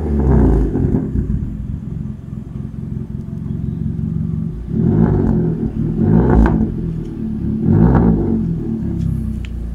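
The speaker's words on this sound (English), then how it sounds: "Here are some pictures and a video of how it sounds straight pipe." A car with a straight-pipe exhaust idles with a deep, throaty rumble, then is revved three times in a row, each blip rising sharply and falling back, loud and close.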